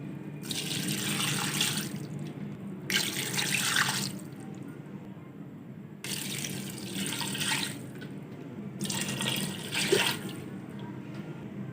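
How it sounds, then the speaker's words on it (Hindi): Water poured into a cooking pot for beef pulao, four glasses for two glasses of rice, in a home kitchen; four separate bursts of running, splashing water, each a second or two long with brief pauses between. "2 गिलास चावल हैं तो 4 गिलास पानी डालेंगे हम।"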